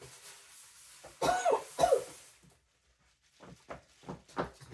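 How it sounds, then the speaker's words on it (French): A person with a bad cough hacks repeatedly, first two loud close bursts, then a quieter run of shorter coughs after a pause. "je tousse que j'en peux plus"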